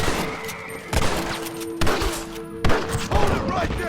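Gunfire in a Western shootout in Red Dead Redemption, with several sharp loud shots in irregular bursts over steady game background sound.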